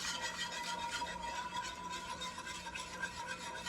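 Flour, garlic and chicken mixture stirred in a bowl, a soft continuous scraping and rubbing swish at low level, steady throughout with no talking.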